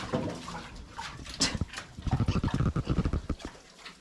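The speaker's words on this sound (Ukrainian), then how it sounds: "Ох, свинка." A pig on a small farm grunts in a short burst of low, rough snorts that cluster near the end, close by, with some faint rustling and a brief noise before it.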